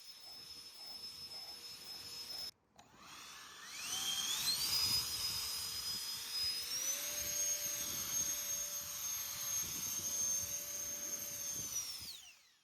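A Booster TF64 Turbo handheld cordless car dryer blows air with a high whining motor and rushing airflow, with a brief cut before it ramps up in pitch and holds steady, close and loud, with no talk.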